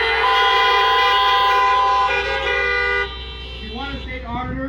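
Car horns honk together at a political rally outdoors in Great Falls, Montana, a loud sustained chorus of overlapping tones that fades and shifts as individual horns drop out near the end.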